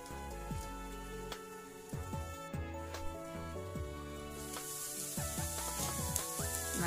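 Red chilies cooking in a covered pan with no oil, a soft steady sizzle and crackle under background music, growing slightly louder and brighter toward the end.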